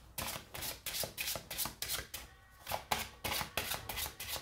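Tarot cards are shuffled for a reading, a steady run of soft riffling, slapping bursts that repeat in a quick rhythm, close and fairly quiet, with no talk.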